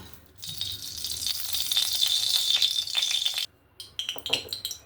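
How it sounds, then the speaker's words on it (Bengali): Oil heats in a hot kadai before fish is fried, giving a loud, close, crackling sizzle that builds and then cuts off abruptly, followed by a few scattered sputters. "এবার আমি এখানে একটা কড়াই বসিয়ে দিয়েছি কড়াইটাও গরম হয়ে গেছে এবার আমি মাছটা ভাজার জন্য তেল দিয়ে দেব"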